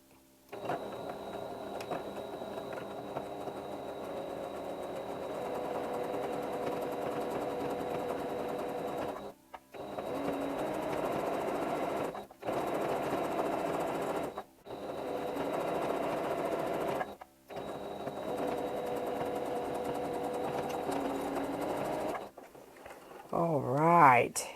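A sewing machine stitches a fabric bag holder in long, steady runs with a few brief pauses, a moderately loud close mechanical hum, and some talk near the end.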